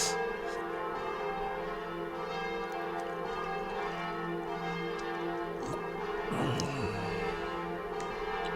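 Church bells ringing outside while a wedding takes place nearby, a steady metallic peal with sustained overlapping tones heard continuously throughout, fairly faint under a constant background hum.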